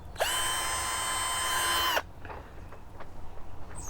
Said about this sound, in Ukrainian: Шуруповерт спеціальний інструмент для того, щоб закручувати шурупи.